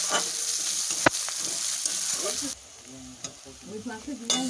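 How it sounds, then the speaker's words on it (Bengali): Onion and slit green chilies frying in a pan for a silver carp curry, a crackling sizzle with a few sharp utensil knocks; the frying drops quieter partway through, close and moderate in level. "পেঁয়াজটা দিয়েই কিছুক্ষণ ভালো করে ভেজে নেব ভেজেই ওর মধ্যে দিয়ে দিচ্ছি কয়েকটা চেরা কাঁচা লঙ্কা"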